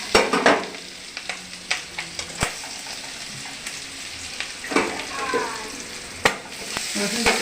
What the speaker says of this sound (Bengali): রসুনটা একটু ভাজা হবে।